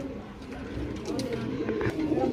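Soft pigeon cooing, low and throaty, close by with a steady murmur of background noise.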